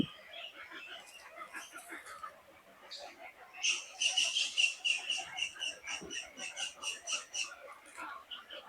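Migratory birds call at a pond, a dense, distant chorus of chirps and croaking notes that builds into a busier, louder stretch midway.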